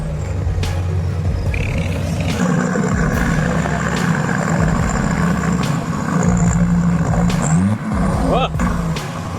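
A heavy loaded timber truck's engine rumbles loudly and steadily while climbing, with low droning tones, a brief hiss of air brakes, and a rising whine near the end.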